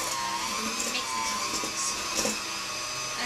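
An electric mixer whirs continuously at close range as it beats chocolate chip cookie dough in a bowl, with a steady motor drone and slight grinding fluctuations throughout.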